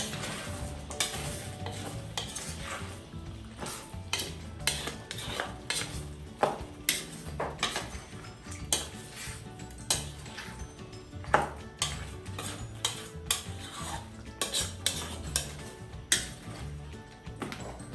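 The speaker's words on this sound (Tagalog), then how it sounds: "Tapos yung ketchup. Halo-halo." Chicken afritada with ketchup being stirred in a pot, a utensil scraping and clinking against metal in a steady repeated rhythm over a low sizzle, close and fairly loud with no talking.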